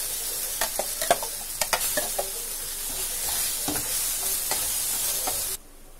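Moong dal cutlet batter roasting in mustard oil with hing in a kadhai, a steady close sizzle broken by irregular scraping stir strokes, stopping abruptly near the end.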